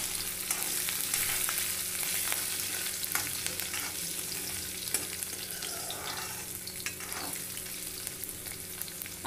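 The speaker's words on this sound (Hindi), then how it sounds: "अब हम डालेंगे इसमें लहसुन। अब इसको अच्छे से चला लेंगे।" Garlic stirred and fried in a pan for a bhindi and kundru mixed vegetable dish, a dense, close sizzle with scraping stirring strokes throughout, with a faint hum underneath and no speech.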